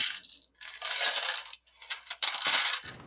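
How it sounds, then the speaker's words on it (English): Small dice clatter and skitter across a hard surface during a tabletop Dungeons & Dragons 5e session, several quick rattling rolls close by with short pauses between them. "Sounds like he has dice to roll."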